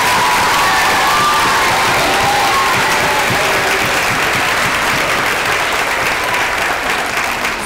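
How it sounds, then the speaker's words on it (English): Loud, sustained applause from a school community crowd honouring a staff member, mixed with cheers and high-pitched whoops, a thick continuous wash of clapping that holds steady for several seconds. "Let's give Ms. Shaw a huge round of applause."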